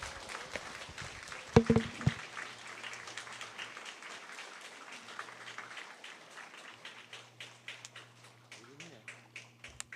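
Audience applause welcoming a missionary in a church service, a steady patter of clapping across the congregation with a louder burst near the start, fading gradually and continuing under quiet background sounds.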